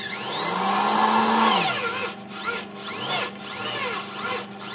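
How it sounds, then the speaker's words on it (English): A power drill whirs up in pitch and then runs in short, uneven bursts with brief pauses between them, fairly close. "So let me power the drill."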